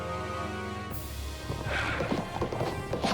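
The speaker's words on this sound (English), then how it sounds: "Horse was able to kick with his hind leg and land a lucky shot." Horse neighing and galloping hooves from the Battle for Wesnoth strategy game, a loud whinny followed by a rapid clip-clop of hooves over a busy battle soundscape, with no talk.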